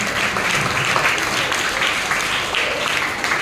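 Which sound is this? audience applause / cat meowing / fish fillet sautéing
audience applause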